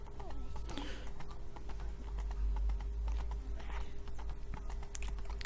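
Horse hooves trot in a steady clip-clop rhythm through The Witcher 3: Blood and Wine video game, moderately loud against a constant low game ambience, with no one speaking.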